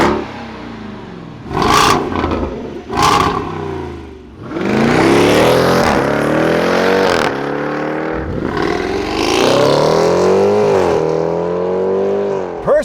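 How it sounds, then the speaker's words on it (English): A supercharged Jeep Grand Cherokee Trackhawk revs loudly with repeated rising accelerations, its deep exhaust roar layered with a high supercharger whine, close and with no talking. "the supercharger whine from this Trackhawk coupled with that exhaust is some of the best stuff I've ever heard"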